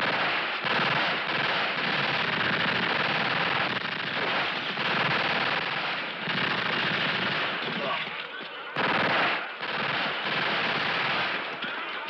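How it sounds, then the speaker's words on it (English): Machine gun fire in a 1971 film, long loud sustained bursts of rapid automatic shots broken by a few brief pauses, with speech at moments. "Next thing you know, the machine will be sowing bullets and shooting thread."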